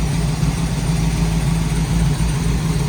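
A boat engine runs steadily while warming its oil before an oil change and winterization, giving a loud, close, continuous rumble with no talk over it.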